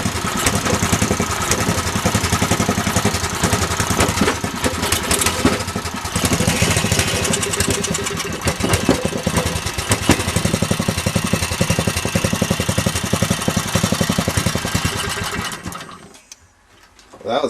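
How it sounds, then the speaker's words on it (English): A small go-kart engine fitted with a rebuilt carburetor runs with a rapid, buzzy, rattling putter, loud and close and steady for about sixteen seconds before it cuts out and briefly restarts. "And I have a go-kart again."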